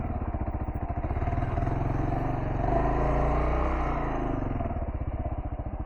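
A Kawasaki KLR650 motorcycle on Shinko 244 tires chugs through mud, its single-cylinder engine thumping steadily and swelling as it pushes through, close and loud with no talk.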